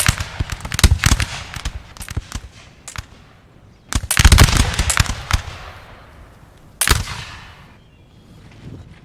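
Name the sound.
musket gunfire from Russian troops in Napoleon Total War video game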